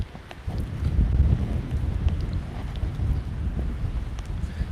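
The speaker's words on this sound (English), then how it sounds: "Just super, super windy." Strong gusty wind on an outdoor trail buffets the microphone in heavy low rumbling bursts, continuous and close, with no voices.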